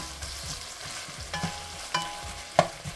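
Chopped Vidalia onion sautés with browned ground beef, a soft steady sizzle under four spatula scrapes and clinks that grow louder toward the end, with no one talking.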